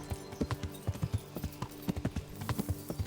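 Horse hooves clip-clopping in the medieval video game Kingdom Come: Deliverance, a steady rhythmic series of fairly close hoof strikes continuing throughout with no talking over them.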